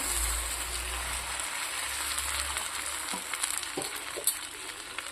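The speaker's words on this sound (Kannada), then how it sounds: "ನಾವಿವಾಗ ಒಂದು ಗ್ಲಾಸ್ ನೀರನ್ನು ಹಾಕ್ತಾ ಇದ್ದೀವಿ ಇದಕ್ಕೆ" A glass of water is poured into a pan of softened tomato masala, setting off a steady, close-up sizzle and hiss of frying that carries through with a few clinks and small spatters.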